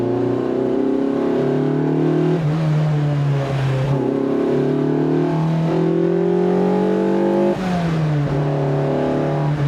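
A Lotus Elise 340R's engine pulls hard from close range, loud and steady, with its pitch climbing through the gears and dropping briefly at each shift, and no talk over it.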